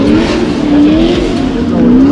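An LS-engined drift car revs hard at Thompson Speedway during a Final Bout drift event, its loud engine note rising and falling in steady pulls close by, with faint tire noise underneath.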